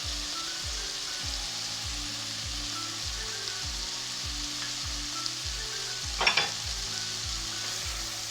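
Spices sautéing for a hilsa fish curry, Old Dhaka fuluri style, giving a steady even sizzle with a brief spoon scrape near the end over a rhythmic low mechanical hum.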